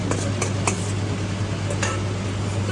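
A spoon stirring and mixing spicy food in a pan, with light scraping clinks at an uneven pace over a steady background hum.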